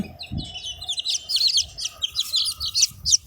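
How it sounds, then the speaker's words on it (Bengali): Many newly hatched chicks in an incubator chirp continuously nearby, a busy overlapping chorus of high peeps with a few soft low clucks underneath. "বেশ কিছু মুরগির বাচ্চা"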